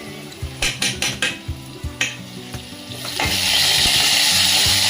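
Garlic for matki usal frying in oil in a metal pan: a series of quick spoon clinks and scrapes, then the sizzle rises into a loud, steady crackle that carries to the end.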